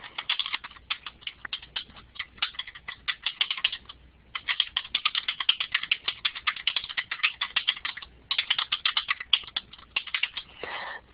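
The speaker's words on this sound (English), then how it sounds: "going to try to type that out" Rapid typing on a computer keyboard during a math statistics lecture, steady close-up clicking in bursts with brief pauses between phrases, no talking.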